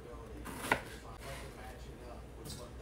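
A knife cutting partly frozen chayote squash (mirliton) into small pieces, a few close chopping knocks, one sharper cut standing out, with faint kitchen noise between.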